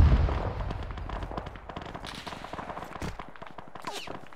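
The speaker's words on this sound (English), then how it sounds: "Yeah, blue's taking fire from the north." Rapid gunfire from the Arma 3 video game crackles in dense bursts, a fast run of sharp reports with some echoing distant shots layered beneath, no voices.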